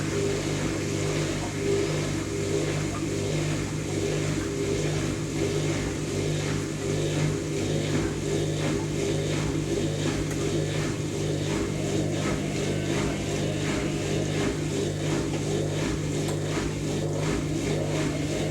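A Zanussi Electrolux ZWF1221W Aquacycle 1200 washing machine turns through its final slow, short 700 RPM spin, a steady close motor hum with rhythmic drum churning throughout.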